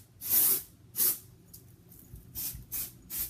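Short bursts of aerosol hair spray hiss onto short hair being styled for curling, five or six separate close sprays in uneven rhythm, with quiet gaps between them.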